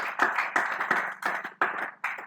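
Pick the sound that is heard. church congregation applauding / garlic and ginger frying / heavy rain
church congregation applauding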